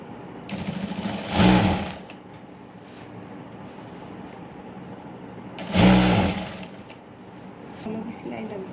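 Sewing machine stitching a 4-inch band onto plazo trousers with a pressing seam, two short bursts of whirring rising over a quiet room tone, with talk in the background.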